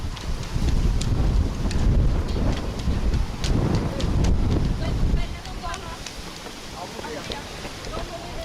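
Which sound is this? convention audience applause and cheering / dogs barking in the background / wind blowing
wind blowing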